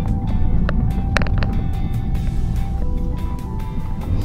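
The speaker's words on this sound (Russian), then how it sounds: "Вот такой полный автобус." Interior of a full bus in motion on the road to Rostov-on-Don, with a loud steady engine and road rumble, scattered clicks and rattles, and faint tonal whines over the drone.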